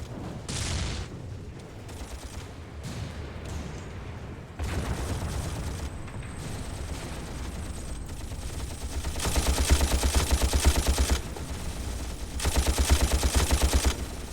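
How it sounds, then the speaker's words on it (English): Front-facing machine gun on a Marder tank firing in a Graviteam Tactics battle on the 1943 Eastern Front, sustained rattling bursts amid steady combat noise, growing loudest in two heavy stretches near the end. "Really love that the Marders have those front-facing machine guns there."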